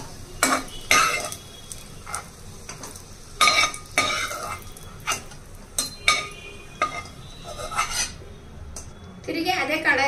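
Fried cashews and raisins being scooped out of a kadai onto a plate, with a metal spoon scraping and clinking against the pan in close, intermittent bursts.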